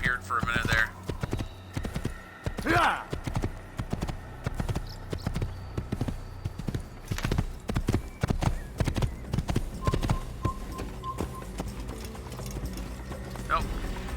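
Horse hooves clip-clopping in the Assassin's Creed video game, a rhythmic run of hoof strikes with an occasional whinny, heard under a player talking casually over the gameplay.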